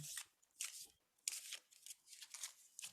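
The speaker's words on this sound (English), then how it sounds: "see me shuffling. I've gone to my other deck of cards now." Deck of oracle cards being shuffled by hand, giving quiet bursts of papery riffling and snapping in an irregular rhythm, close and fairly faint, with no talking.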